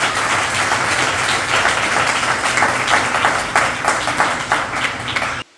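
A church congregation applauds during a sermon service, a dense, steady wave of clapping from many hands that holds evenly, then cuts off abruptly at the end.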